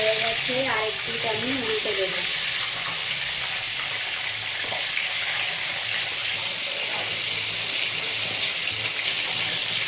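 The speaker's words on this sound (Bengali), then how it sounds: "আবার একটা মাছ নেব এরপর এই তেলের মধ্যে ছেড়ে দেবো এরকম করে প্রত্যেকটা আমি ভেজে নেব" Bombay duck (lote) fish fry in hot oil, a loud, steady broad sizzle hissing continuously throughout, with a brief voice at the start.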